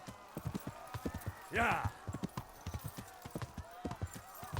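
A horse gallops in Kingdom Come: Deliverance with rapid, steady clip-clopping hoofbeats and a brief whinny partway through, and someone speaks a short word over it.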